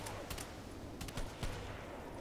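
Video game gunfire in an online sniper match: a few quick muffled shot bursts over a dense, constant game background with no talking.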